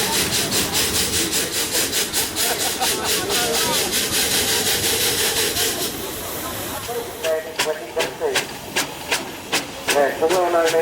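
A Sentinel steam lorry hisses steam during a rescue by a traction engine. A loud, steady hiss gives way to rapid rhythmic chuffing bursts of steam.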